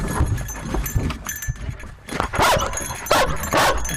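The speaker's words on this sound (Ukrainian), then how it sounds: "Собака шукає." A search and rescue dog works a training exercise, hunting for a person hidden in a box to simulate a rubble victim; quick scrabbling paws and sniffing give way to a few sharp barks.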